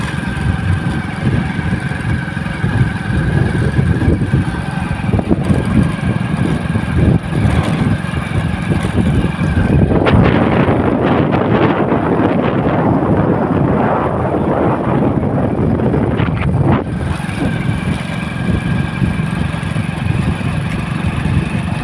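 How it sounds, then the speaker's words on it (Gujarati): Wind blows across open farm fields near a tractor spraying crops, producing a constant rushing roar and microphone buffeting with a low engine-like rumble and a stronger gust through the middle. "ઠંડો ઠંડો મસ્ત પવન આવે"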